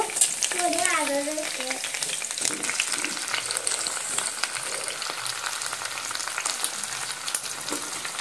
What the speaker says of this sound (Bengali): এবার আমি এখান থেকে কুমড়ো আর পুঁইশাকটা নিয়ে এই পেঁয়াজের মধ্যে দিয়ে দেব।